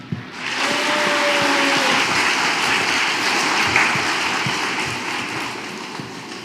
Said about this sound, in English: Let's welcome him up with a big round of applause.